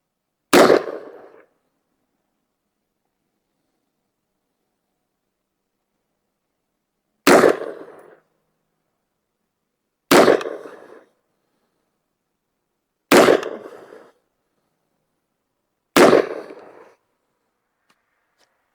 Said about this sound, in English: We're going to shoot a 5-shot group, top right target.